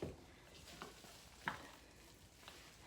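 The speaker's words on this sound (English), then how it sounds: "I'm just going to mix this up good with my big spoon" Pinto beans being stirred in a pot with a big spoon, a few soft scraping strokes at an unhurried pace, faint and close against a low background hiss.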